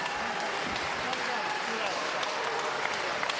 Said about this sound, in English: Yeah, generous applause.